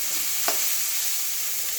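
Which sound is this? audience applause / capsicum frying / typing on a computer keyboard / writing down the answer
capsicum frying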